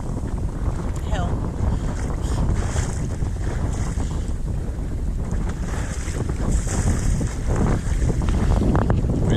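Steady, blustery force 3 wind buffets the microphone over the rush of water against a moving sailboat hull in a Scottish sound, loud and continuous throughout.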